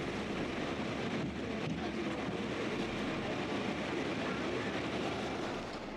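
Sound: Howrah–Barddhaman local train running on the Chord Line

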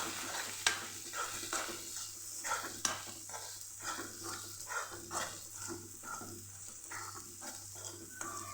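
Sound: raw peanuts and sesame seeds sautéing in pan

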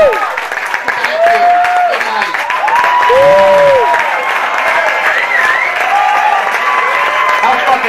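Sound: audience applauding at a comedy roast

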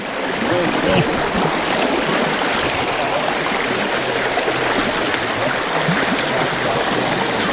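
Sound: water flowing naturally from the hills, Ain Razat, Salalah

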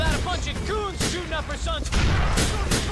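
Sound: grenade explosions in the video game GTA 4

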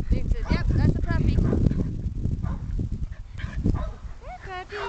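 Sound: puppy barking

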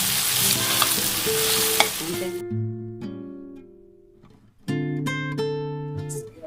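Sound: chicken curry frying and being stirred in a pan

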